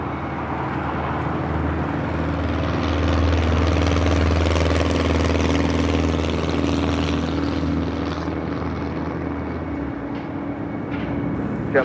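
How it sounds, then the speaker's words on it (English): United Boeing 777-200 jet arriving at LAX after a flight from Chicago, a loud sustained engine roar that swells around the middle and then eases, heard from nearby on the ground. "A flight coming in from Chicago here, flight 1584 with United, the 777-200."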